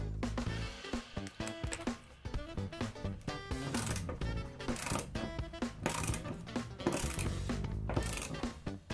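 A Felo Ergonic K 180 ratchet wrench, model 497, is worked by hand, making a quiet, close run of dense mechanical clicks in repeated strokes.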